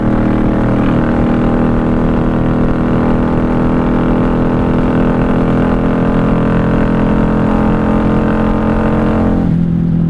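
A 1994 Honda Magna 750 VF750C motorcycle engine runs at high RPM, a loud, steady, close drone that holds constant before easing off near the end.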